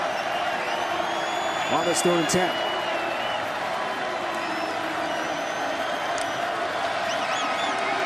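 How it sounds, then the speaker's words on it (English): Football crowd at Waldo Stadium, a steady broad roar from the stands during a Syracuse versus Western Michigan game, with cheers and whistles rising over it while a commentator talks throughout. "And the Waldo Stadium crowd gets involved here"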